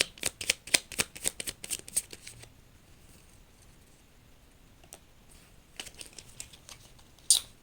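Tarot cards being shuffled by hand, a quick close flurry of crisp riffling snaps that stops, leaves a quiet gap, then returns briefly with a few more card flicks and a final sharp slap.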